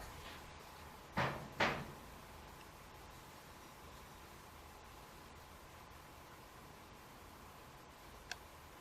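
Two sharp knocks on a door, close together and clearly audible over a quiet room hum, followed by long stillness and one faint tick near the end.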